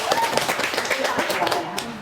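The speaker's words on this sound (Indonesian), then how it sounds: "Nah, tepuk tangan Mbak Uli." A small group in an academic coaching and supervision class claps briefly for a participant, a light, scattered patter of hands mixed with people talking.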